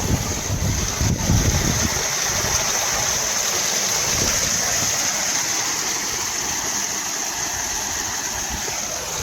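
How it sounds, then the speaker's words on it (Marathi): A village waterfall rushes in a constant broadband roar of falling water, steady and fairly close, with no voices heard. "तर चाललो आहे धबधब्याकडे आणि शूट करतोय थोडंसं धबधब्याचं"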